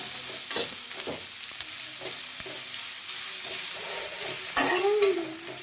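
Carrot and capsicum stirred in a hot pan for veg noodles, with a steady sizzle and repeated scraping strokes of a spatula, one louder scrape near the end.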